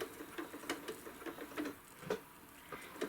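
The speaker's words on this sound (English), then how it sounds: "I'm going to press that tack stitch, the tack stitch button on my machine, and let the machine do its thing" A sewing machine running its tack stitch to knot the thread, giving a quick series of light, evenly spaced mechanical clicks and taps, fairly soft and close with no talking.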